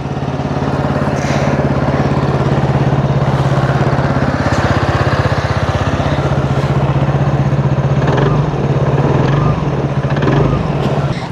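A TVS Ntorq 150 scooter engine idles steadily up close, a loud, even hum with a slight wobble near the end.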